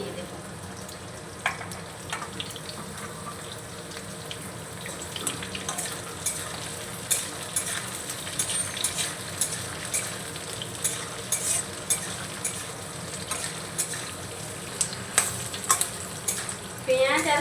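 Sliced onion and capsicum fry lightly in a pan, with a soft continuous sizzle under repeated scraping and stirring, and the clatter of the utensil growing busier toward the end.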